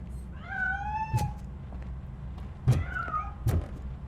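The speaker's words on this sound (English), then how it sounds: "That cat must be hiding inside." A cat meows several times in the video game RoboCop: Rogue City, drawn-out mid-pitched cries alone over a low ambient hum, with soft thuds between them.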